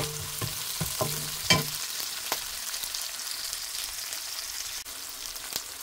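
Chicken browning in a hot pan gives off a steady, fairly loud sizzle, with a few sharp scrapes and clinks of stirring near the start and no voices.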